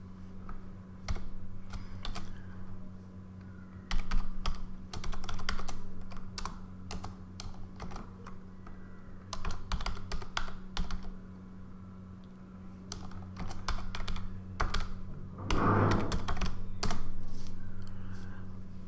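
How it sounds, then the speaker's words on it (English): Typing on a computer keyboard while entering commands for schematic capture and netlisting with gschem, with steady bursts of close key clicks throughout over a low electrical hum. "You need to type in that."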